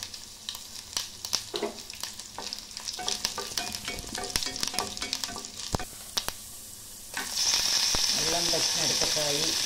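Mustard seeds, chana dal, urad dal, cumin and chili being tempered in hot oil, with crackling pops and stirring clatter that give way to a steady, louder sizzle.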